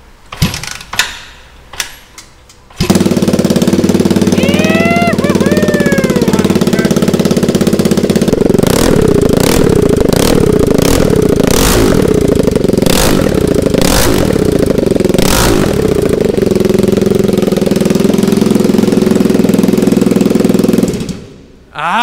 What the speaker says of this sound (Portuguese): Tá muito alto o barulho do escape.